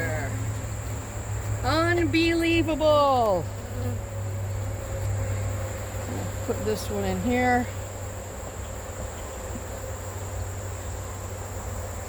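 A steady buzzing drone of honey bees swarms around an open hive, heard near and continuous, with someone talking briefly over it.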